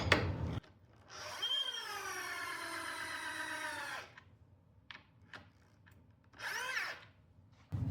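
A power drill drives a fastener into a portable shooting target, running in a steady whine for about three seconds, then again briefly after a pause, close and fairly loud with small knocks between.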